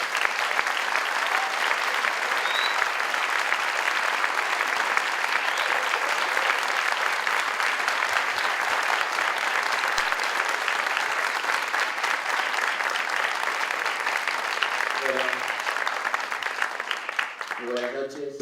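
An audience at an evening book presentation during the Mendoza Book Fair claps loudly and steadily for about seventeen seconds to welcome the speaker, and a voice begins as the applause fades.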